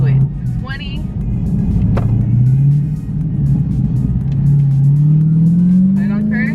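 A Dodge Challenger Hellcat Redeye held in first gear accelerates from low speed with a loud, close engine roar that rises steadily in pitch, while a person talks over it.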